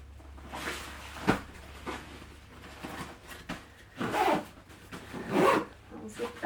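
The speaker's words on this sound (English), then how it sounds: "I'll zip that up." Zipper being pulled closed on an Osprey 40L travel backpack while packing, a few rasping zip strokes close by with a voice talking quietly in between.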